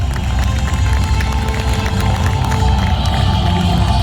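Large outdoor crowd at a firework and drone show applauding and cheering, a dense sustained roar of clapping and voices over a low rumble, loud and continuous.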